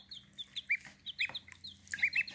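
Young chicks kept alongside a duckling cheep and cluck in quick high bursts, several short calls scattered in rhythmic clusters, close by and moderately loud with no talking.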